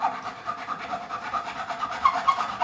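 A metal file works a bevel into a fret on a Fender Telecaster guitar neck, a close, rhythmic rasping of short back-and-forth strokes that repeats steadily.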